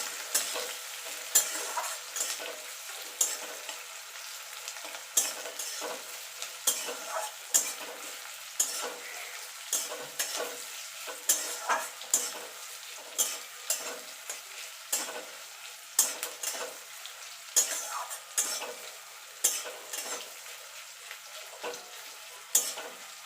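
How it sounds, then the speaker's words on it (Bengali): Chopped onions sizzle and fry in hot oil in a pan while being stirred repeatedly, with regular scraping strokes of a spatula over a steady crackle, close and alone without talk, for a spicy ridge gourd dish. "পেঁয়াজটাকে আমি লাল লাল করে ভেজে নেব।"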